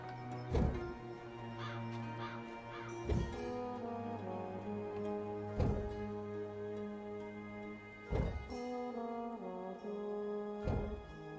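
Harsh caws from a bird in the video game Dreamfall Chapters, five loud calls spaced a few seconds apart over a steady droning music bed.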